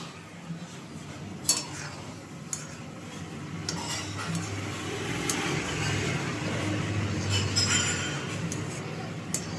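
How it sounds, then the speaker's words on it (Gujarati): Ghee stirred in a pot on the stove, with soft scraping and occasional clinks of a spoon against metal over a low steady background, quiet and close. "ઘી બનાવું છું."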